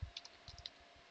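Light tapping of keys on a computer keyboard as a directory name is typed, a handful of quick, soft, irregular clicks heard close and alone in a quiet room.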